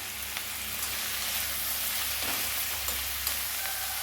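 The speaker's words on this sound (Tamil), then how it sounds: "போட்டு நல்லா வெண்டைக்காய் வேகிற வரைக்கும் இந்த எண்ணெயிலையும் நம்ம பிரட்டி எடுத்துடலாம்" Okra (ladies finger) fries in hot oil with turmeric and gets tossed, a soft continuous sizzle with faint stirring scrapes, close and without speech.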